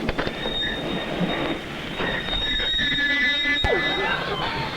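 A train screeches with high, sustained squealing from its wheels and rumbles over rails, building as it slows. One sharp clank lands near the end.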